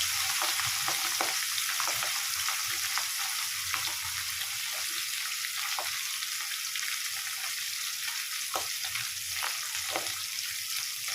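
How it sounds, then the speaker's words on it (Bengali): Pabda fish fry gently in hot oil in a pan, giving a steady loud sizzle with intermittent crackles and soft stirring clatter, with no talking. "মাছগুলো খুব বেশি ভাজবো না, হালকা হালকা ভেজে নেব।"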